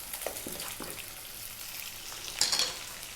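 Sliced onions fry for dal fry in a pan over above-medium heat, a steady close sizzle with scraping stirs and a brighter burst of crackling near the end.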